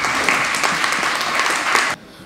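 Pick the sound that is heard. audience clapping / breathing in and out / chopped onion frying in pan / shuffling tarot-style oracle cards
audience clapping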